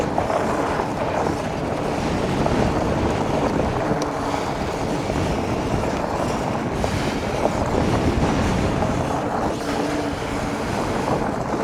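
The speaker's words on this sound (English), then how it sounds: "It is so windy." Strong wind roars and buffets the microphone while riding an e-bike, continuously, a loud steady rush with gusting swells throughout, no voices.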